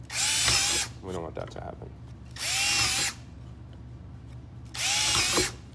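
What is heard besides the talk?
power drill drilling through material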